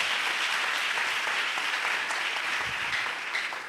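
A church congregation claps steadily and loudly throughout a Pentecost service, a dense, sustained wash of applause from a crowd filling the room.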